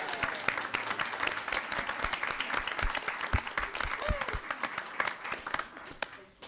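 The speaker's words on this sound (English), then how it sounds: "let's start clapping for you some more" An audience at a school board meeting applauds steadily for several seconds, a dense, close wash of clapping that tapers off at the end, with some voices mixed in.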